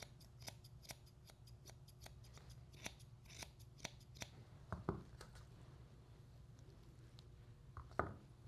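Grooming scissors snip repeatedly at a dog's hair, trimming the front of a ponytail tassel near a bow, a steady series of crisp close cuts that thins out toward the end.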